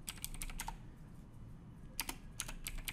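Soft, light keystrokes tap on a computer keyboard in short clusters with a quiet pause between them, close but faint over a low background hum, with no talking.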